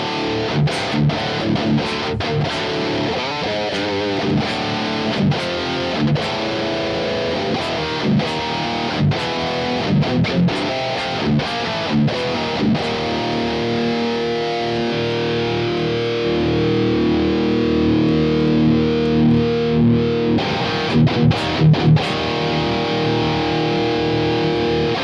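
Heavily distorted electric guitar played through the Kuassa Amplifikation Arkhive amp sim plugin, a loud, dense riff of chugging palm-muted chords and sharp picked attacks sustaining throughout with no voices.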